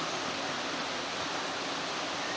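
Water rushes steadily beside an old moss-covered stone wall near what may be a former mill, a dense unbroken roar that stays loud and close with no pauses.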